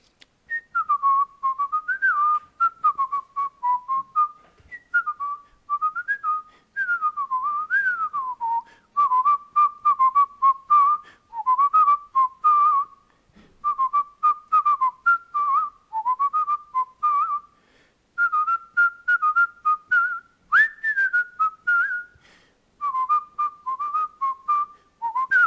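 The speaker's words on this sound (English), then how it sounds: "I'll just give you a little preview of a whistle" A person whistles a wandering, warbling tune alone for a long stretch, clear and close, in short phrases with brief breaths between them and no background noise.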